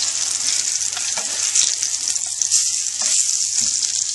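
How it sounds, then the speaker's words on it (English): Pork and mushrooms sauté in butter in a pan over a very low flame, giving a steady soft sizzle with light scraping and clinks as pieces are turned, with no talk. "You want to kind of saute them in the butter"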